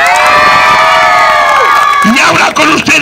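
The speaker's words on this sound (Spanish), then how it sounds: "gritos y aplausos para ver a Picolín" A crowd at a Mexican clown comedy show cheers with loud, sustained whoops and shouts, the voices rising together and then breaking into scattered yells.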